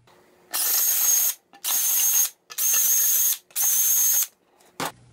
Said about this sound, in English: I'm going to just get a drill and we're going to uh, make it a little wider